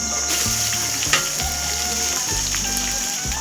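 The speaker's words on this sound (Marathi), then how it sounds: "चांगला भाजून द्यायचा आता कांदा" Chopped onion roasting in a pan with curry leaves, mint and Byadgi chilies, giving a constant close hiss of frying with a few faint stirring clicks and a steady tonal hum behind it.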